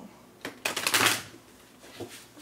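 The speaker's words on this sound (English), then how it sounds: "one of my spirit guides is asking me to shuffle the cards 3 more times." Tarot cards being shuffled close by, a quick riffle of rustling flicks that swells and then fades.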